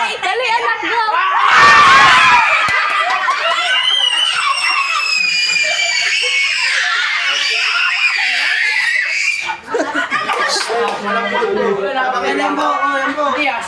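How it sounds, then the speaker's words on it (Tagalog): Children shout and scream loudly at a beach outing, shrill overlapping cries and squeals with bursts of laughter filling the whole stretch, a brief dip near the end before the noisy yelling resumes. "Yung mga sigawan pala maingay"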